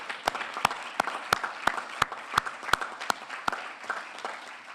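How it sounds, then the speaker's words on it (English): An in-room audience at a healthcare conference in the Cayman Islands applauds, with a nearby pair of hands clapping in a steady, evenly spaced beat over the softer clapping of the crowd. "let's give a big round of applause to the team who's been working hard behind the scenes."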